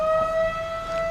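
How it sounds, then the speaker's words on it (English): A firehouse siren next door wails in one steady, sustained tone, loud and close, with no voices over it. "the firehouse next door's got a siren."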